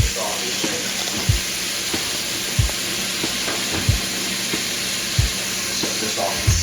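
Garlic steak sizzling steadily in a hot pan as it is turned, with a bright continuous frying hiss punctuated by regular low thuds and scrapes roughly every second and a half, close and moderately loud.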